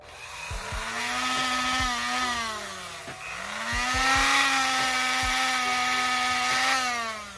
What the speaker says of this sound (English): you're gonna take your Dremel. I like to put it on the first setting on here.